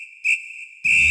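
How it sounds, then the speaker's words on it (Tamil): A sharp, steady high whistle from the Vijay film Ghilli sounds alone and sustained, with a brief louder swell early on and a burst of noisy rumble at the end. "அந்த விசில் சவுண்டு தான் கேட்கும்."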